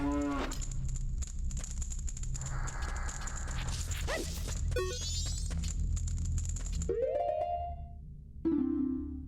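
A cow moos in The Legend of Zelda: Majora's Mask, a loud drawn-out low call amid game music and chiming interface effects, followed by short rising menu tones.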